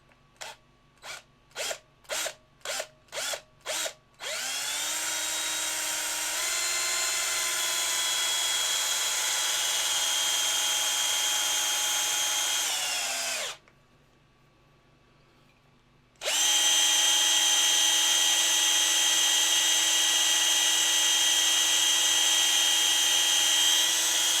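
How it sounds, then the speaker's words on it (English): A power drill bores a hole in a resin model kit, starting with a string of short bursts, then a long continuous high whine that stops briefly and resumes steady and loud, close up with no talking. "And we're gonna take a bigger drill now."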